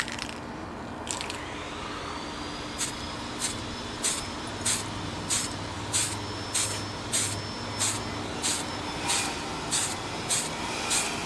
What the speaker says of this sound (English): So first thing you want to do is make sure you get a good spray